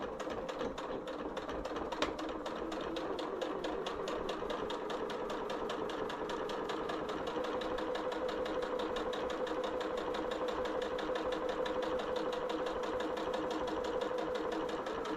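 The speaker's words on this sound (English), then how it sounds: "I'm going to just sew, do some back stitching." Sewing machine running steadily while back stitching along the zipper of a fabric zipper bag, a fast, even mechanical chatter of needle strokes that stays close and loud throughout with no talking.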